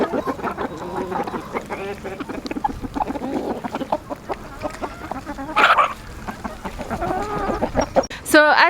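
Backyard homestead chickens cluck busily and continuously while being fed a bucket of kitchen scraps, the close, overlapping calls mixed with rustling and brief bursts of other activity.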